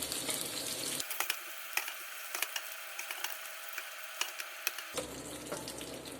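Pork and chorizo juices frying in a pan, a steady near hiss of sizzling broken by scattered sharp pops and scraping clicks, with no speech.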